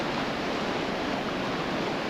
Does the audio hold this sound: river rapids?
yes